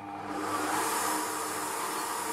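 Milux MFM-3615 stand mixer with whisk attachment running at its lowest speed, a steady, fairly loud motor whir that holds level throughout with no talking.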